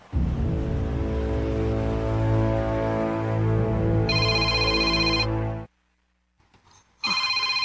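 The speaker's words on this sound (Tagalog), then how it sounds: "Ang akong cellphone." A cellphone ringtone plays loudly and close, a steady melodic tone that cuts off abruptly, leaving a brief near silence before the ring starts again.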